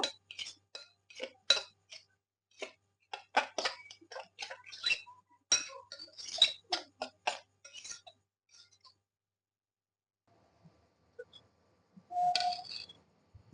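Boiled Maggi noodles and egg pizza ingredients are stirred together in a bowl, giving a run of sharp utensil clinks and taps that fade out, then a short scrape at the end.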